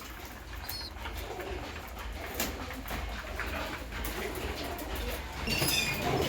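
Released pigeons coo in soft repeated murmurs under a dense, steady wash of wing flutter and background noise, with occasional brief chirps.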